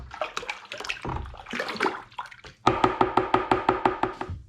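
A rhubarb and ginger cider mix with spring water is stirred vigorously, first with sloshing liquid swirls, then with a quick run of regular knocking strokes against the container, close and fairly loud.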